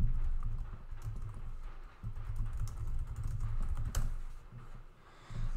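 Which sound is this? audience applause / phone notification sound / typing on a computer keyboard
typing on a computer keyboard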